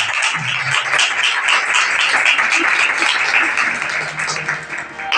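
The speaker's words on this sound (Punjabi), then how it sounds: "ਮੈਂ ਜ਼ੋਰਦਾਰ ਤਾਲੀ ਪਰਮੇਸ਼ਰ ਦੇ ਲਈ ਮਹਾਨ ਪਿਤਾ ਦੇ ਲਈ" Loud, sustained applause from a congregation at a church service, dense clapping filling the room with faint voices underneath.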